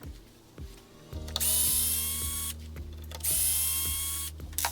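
A drill taps screw threads into a fitting, its motor whirring in two sustained runs with ramp-ups and pauses, close and fairly loud, alone.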